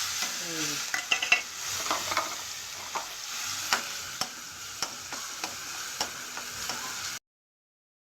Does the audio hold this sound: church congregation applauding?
no